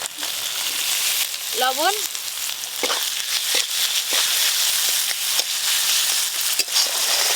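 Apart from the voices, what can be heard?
chopped tomato sizzling in hot oil with spices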